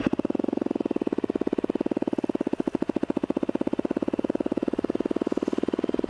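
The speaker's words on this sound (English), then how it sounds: "hopefully you guys can hear me over the bike" A cold motorcycle engine idles close by with a steady, rapid, even thumping that holds the same pace throughout, with no voices over it.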